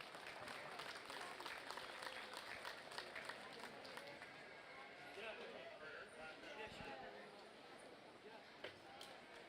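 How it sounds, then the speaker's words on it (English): Steady applause from a crowd at a junior market lamb show, continuous broadband clapping at moderate distance lasting throughout, with faint background voices mixed in. "Folks, let's give these exhibitors a big round of applause."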